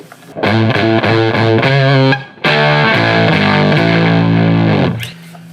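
Electric guitar through a hand-wired Fuzz Face clone pedal with guitar volume at 10, heavily fuzzed, playing a riff of sustained chords, loud and saturated, with a brief gap before it resumes and rings out.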